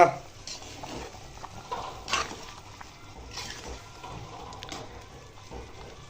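A pot of Bihar-style chicken curry comes to the boil while being stirred, with soft scraping and clinking of the spoon against the pot over a faint bubbling simmer, close by and without speech.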